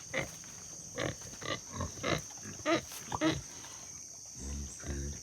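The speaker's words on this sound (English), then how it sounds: "Mama pig." A sow grunts as she tries to rouse her sleeping piglets, a string of short, low snorts and grunts in irregular bursts, close but quiet, with a steady background hum and a little talk.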